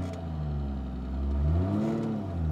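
Inside the cab of a Toyota Tacoma pickup swapped with a turbocharged 2JZ engine, the motor drones close and loud, its pitch rising and falling as it revs under gentle throttle while the clutch is let out.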